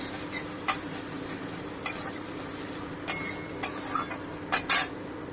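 Ginger paste stirred in a hot frying pan while cooking moong with pointed gourd, giving several sharp scrapes and clinks of a spoon against the pan over a steady low sizzle.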